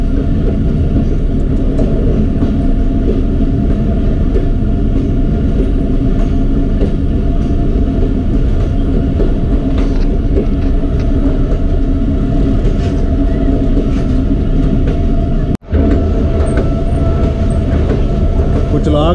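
Pakistan Railways Chaman Passenger 349 Up running from Quetta toward Chaman, heard from inside: a loud, steady rumble and rattle of the moving carriage with faint clatter throughout, and one brief dropout near the end.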